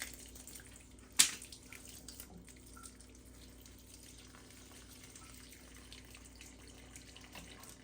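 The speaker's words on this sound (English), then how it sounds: "That's mostly water coming back from the garage." Faint, steady trickle of water draining from a cut water supply pipe, punctuated early by a single sharp metallic click or snap.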